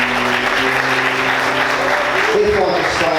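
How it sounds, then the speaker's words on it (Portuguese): Loud, continuous clapping from a church congregation fills the space while sustained tones sound underneath and a voice comes in briefly near the end. "Você pode aplaudir Jesus de forte,"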